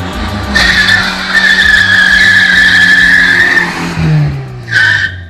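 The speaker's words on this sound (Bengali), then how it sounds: "সেই সময় রাস্তা দিয়ে একটা মোটর ছুটে আসছিল" A speeding motor car skids to a stop on a road in a horror audio drama, tires screeching loud and sustained for about three seconds, then a shorter second squeal near the end.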